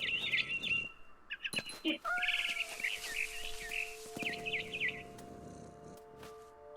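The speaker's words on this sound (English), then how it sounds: "Then I heard chirping outside my window." Small birds in a video game chirp in quick repeated bursts, bright and close, with a soft electronic tone and faint background hiss in between.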